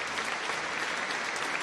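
A crowd gives a brief, even round of applause, with steady, fairly faint clapping throughout and no pauses.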